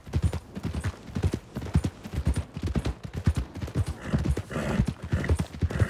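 Horse hooves clip-clop in the video game Red Dead Redemption 2, a steady close rhythmic clopping of hoofbeats on the ground that continues throughout.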